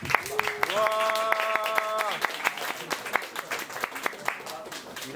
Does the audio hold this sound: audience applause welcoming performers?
yes